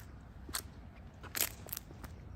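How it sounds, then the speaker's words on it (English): Footsteps crunch on dry leaves at night in a cemetery in Sun City, Arizona, a few sharp, brittle crackles spaced irregularly over quiet background hiss, fairly faint and somewhat distant. "Crunching on the leaves, that's what I heard."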